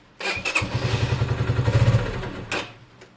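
A Honda CB250 motorcycle fitted with a CG performance carburettor barks up close in a rapid pulsing burst of firing beats for about two seconds, then cuts off, followed by a brief clunk.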